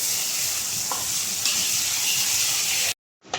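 A kilo of tomatoes and about fifteen green chilies sauté in a pan, making a loud continuous sizzle with faint stirring touches, close up, before a sudden brief cut to silence and the sizzle's return.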